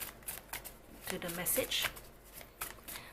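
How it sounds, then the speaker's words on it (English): A tarot card deck shuffled by hand close up, with quick riffling bursts of papery flicks and slaps, while someone speaks briefly over the shuffling. "So I'm going to shuffle on camera."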